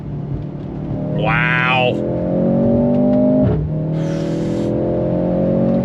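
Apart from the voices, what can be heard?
2024 Mercedes-AMG C 43 accelerating in second gear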